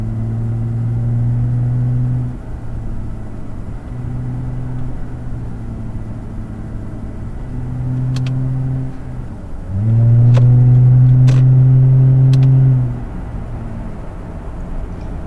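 Lexus IS250 sedan accelerating on the road, its engine drone rising and falling through several gear changes, then a louder, stronger surge of revving near the end, steady and close throughout.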